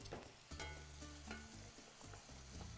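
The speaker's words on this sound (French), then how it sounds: "on ajoute l'ail aux oignons. Donc, on le fait revenir juste un peu." Garlic added to onions sizzles and crackles in a frying pan, a steady close frying hiss with occasional stirring clatter and no talk.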